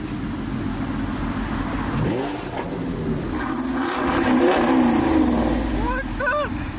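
A tuned 650 hp Mercedes-AMG GT S engine running and revving, heard from inside the car as a steady low rumble with rising and falling rev sweeps; brief voices break in over it.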